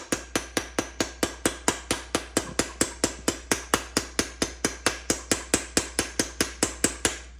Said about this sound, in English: We're just going to give it some very light taps, light and quick taps, almost like a jackhammer motion